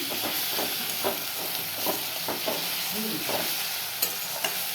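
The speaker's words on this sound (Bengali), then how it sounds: "এবার কষাবো একটু ভালো করে কষিয়ে নেব" Masala frying in a pan while being stirred, a soft, steady sizzle with repeated scraping strokes of a spatula at an uneven pace, close and fairly quiet.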